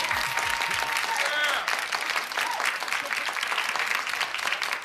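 An audience applauds steadily at a New Year's celebration, a dense wash of clapping that fills the whole clip with a brief dip midway, while a voice speaks over it near the start.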